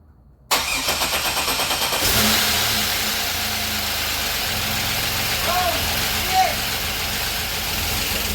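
Pontiac Grand Am GT with a swapped 3800 engine cranking and starting with the key, catching with a loud surge, then settling into a steady, rough idle close to the listener.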